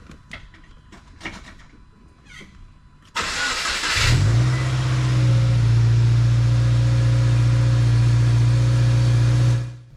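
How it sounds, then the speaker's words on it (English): A Subaru car engine cranks and starts after a few faint clicks, then runs at a steady, loud idle with a raised rev before cutting off abruptly. "Clear the codes and fire up the engine."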